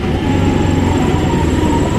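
A Delhi metro train rumbles steadily with a low, continuous roar and faint high whine, like riding inside a moving metro car, no voices.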